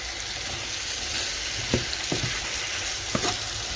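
Vegetable filling for samosas sizzles steadily in a pan, a constant hiss of frying broken by a few sharp clatters of stirring.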